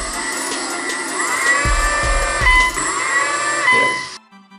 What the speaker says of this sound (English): You can hear the electronic speed controller's fan just going on